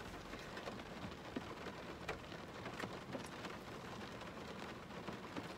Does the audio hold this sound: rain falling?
yes